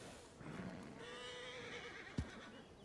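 A horse in a Red Dead roleplay video game neighs clearly, with a whinny close by, along with a few hoof clip-clops and a short sharp knock near the end. The sound is quiet and there is no talking.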